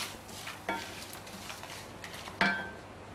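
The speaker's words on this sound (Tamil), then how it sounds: "இப்போ பாருங்கள், பெருங்காயத்தூளை நான் சேர்த்து இதில் ஒரு பெரட்டுறேங்க" Roasted spices with asafoetida powder being stirred in a pan for a vathal kuzhambu masala. Soft, quiet scraping is broken by two distinct metallic clinks of the utensil against the pan.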